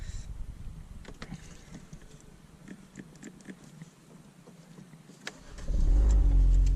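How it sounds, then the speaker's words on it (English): A Ford Focus RS engine starts after a security system install: quiet mechanical clicks and taps, then the engine catches near the end and settles into a loud, steady idle. "Vehicle started and good to go."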